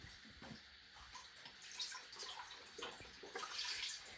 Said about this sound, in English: I'm just going to pour this into a separate pot.